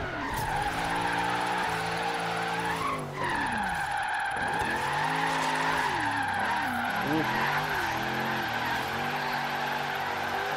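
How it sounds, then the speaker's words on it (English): Sustained tire squeal and skidding from a car drifting through a drift zone in the racing game Forza Horizon 3, with the engine note rising and falling as the car slides wide through corners, loud and continuous throughout. "we're going into the drift zone"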